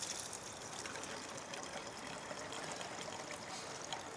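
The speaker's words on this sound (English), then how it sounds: "So I'm gonna go ahead and dump 3 quarts of this into the speed dip." Regular gasoline poured into a speed dip for trap preparation, a steady continuous trickling and splashing of liquid, close and even throughout with no talking.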